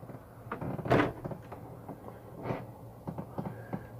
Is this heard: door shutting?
yes